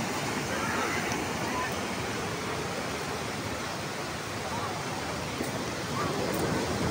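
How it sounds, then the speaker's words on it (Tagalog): Big surf rolls in at San Fabian beach in Pangasinan, a constant broadband wash of breaking waves and wind, fairly distant and steady throughout, with no voices in the foreground. "Laki ng alon yan."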